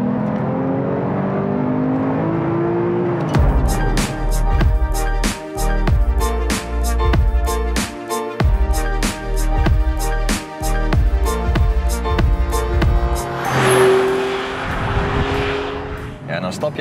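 A Porsche 911 R with manual gearbox revs and accelerates hard on a road, rising engine pitch through repeated gear changes with brief dips between shifts, loud and close, then a whooshing tail as it eases off.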